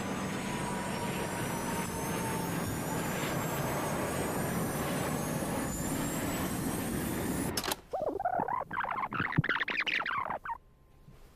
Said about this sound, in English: Video of the crash picked up the distinctive sound of the A320's engines accelerating.